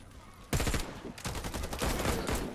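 Rapid automatic gunfire from an MPX SBR in a first-person shooter game, bursting loud and close in two dense volleys separated by a brief gap, with no talking over it.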